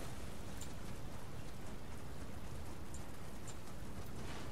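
Storm with rain in a video game, a dense steady rush of rainfall hiss that stays constant and fairly quiet, with no voices.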